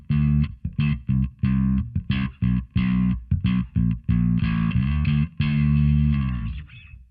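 Dense, growling notes from a bass guitar fed through a B7K pedal, played in quick plucked bursts with a few held notes and a ringing final note that fades out, heard up close with no talking.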